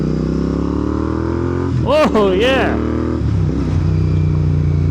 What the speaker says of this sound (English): Royal Enfield, their engines just put out a tune that's nothing like anything else here. They're super throaty sounding engines.